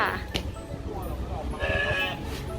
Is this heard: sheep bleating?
yes